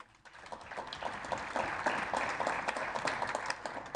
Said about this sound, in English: I think we need to clap for them